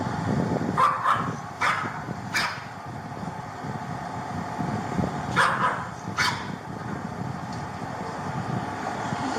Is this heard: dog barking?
yes